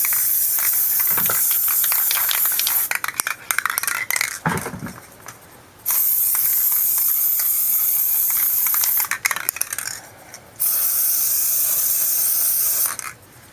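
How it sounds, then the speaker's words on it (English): Case lube sprays onto rifle cartridge cases lined up for sizing on a Lee Load Master, in long loud hissing bursts separated by short pauses, with no talking. "you line them up and you hose them at an angle so it also goes inside the case mouth"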